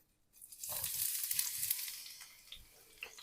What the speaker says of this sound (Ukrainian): Пательня розігрілась, додаємо цибулю.